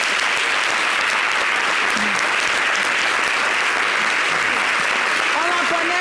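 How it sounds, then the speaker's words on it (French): Studio audience applause on a live talk show, dense steady clapping filling the whole stretch, loud and close, with faint voices rising near the end. "On applaudit pour Rachel"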